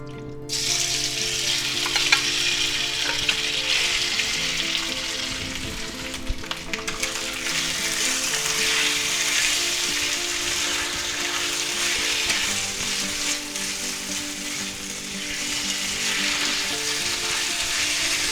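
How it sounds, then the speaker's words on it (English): Marinated pork for a stir fry drops into hot oil in a pan and sizzles loudly and steadily, with occasional stirring scrapes, close up and continuous. "we're going to take our marinated pork and we're going to put that right in there"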